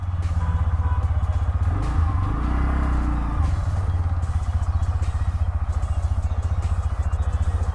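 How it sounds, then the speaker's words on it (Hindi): A Bajaj Pulsar N125 125cc motorcycle engine running at idle, a close, steady rhythmic thrum with a brief swell of revving early on, then settling into an even putter. "तो स्टार्ट करते हैं बाइक को।"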